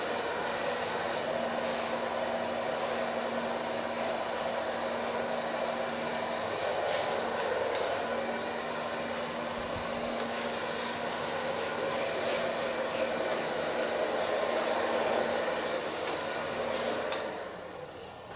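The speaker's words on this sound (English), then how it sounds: "So far blow drying." A handheld hair dryer blows hair dry with a steady, loud airy whoosh and a constant motor hum, with faint clicks and shifts as it moves near the microphone, and no one speaking.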